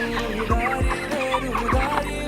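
Chickens clucking in a busy 5000-bird poultry shed, several birds calling over a steady low hum, with a few thumping low knocks.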